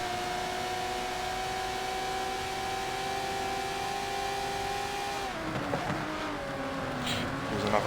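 Aston Martin DBR9 race cars at Silverstone in a series final, a sustained engine drone holding steady pitch before shifting and dropping as the cars pass, with the rougher roar of a second car rising near the end.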